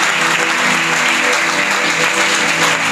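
Clapping from a church congregation during praise, loud and continuous with many hands together, over a faint tonal backing of music.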